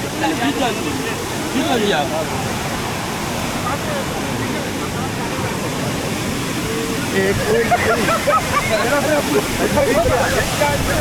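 A waterfall pours in wind and rain, its water splashing with a loud, continuous broadband roar that swells slightly toward the end.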